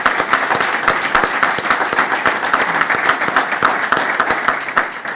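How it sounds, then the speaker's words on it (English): An audience at a gathering at UCLA gives Hollis Smith a round of applause, with many hands clapping in crisp, rapid, overlapping claps that stay loud and even throughout. "I'd like to have you all give Hollis Smith a round of applause"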